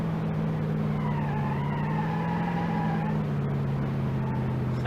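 Naturally aspirated wagon engine in the BeamNG.drive driving game, a steady droning hum that rises slightly in pitch then eases back, continuous and fairly loud with no talk over it.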